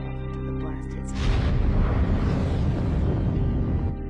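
A big explosion from the disaster film The Core (2003): a sudden heavy blast that swells into a loud, sustained roaring rumble for nearly three seconds before cutting off, with no talk over it.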